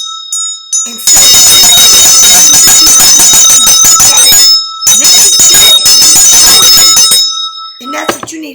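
A bright metal bell rung loudly in two long sustained bursts of rapid ringing separated by a short pause, then a fainter final ring.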